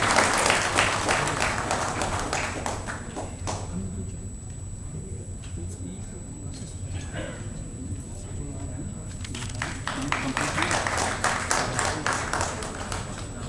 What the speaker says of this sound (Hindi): आप ताली बजाते रहिए